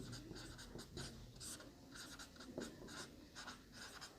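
Pen strokes scratching across paper while solving a maths problem in a lesson, a series of short quiet scribbles and taps repeating irregularly, close and faint, with no talking.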